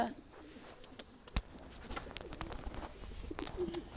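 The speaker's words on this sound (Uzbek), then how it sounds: "O'zimiz kaptarlar ham tushyapti endi" Pigeons coo softly nearby, low murmuring calls over faint background noise, with brief knocks and rustles.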